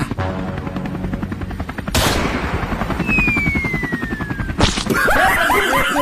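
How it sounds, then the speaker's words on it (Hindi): Sound-effect gunfire aimed at a helicopter in a comedy skit: dense rapid bursts of shots mixed with a rotor-like drone and a sweeping whistle, ending with chirpy electronic blips. "मार गोली हेलीकॉप्टर में"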